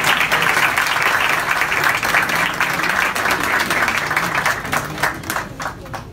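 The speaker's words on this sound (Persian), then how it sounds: "تشویقشون بفرمایید" Dense, sustained applause from an audience at a music school concert of string, piano and drum ensembles, loud and close, with many hands clapping continuously and thinning slightly toward the end.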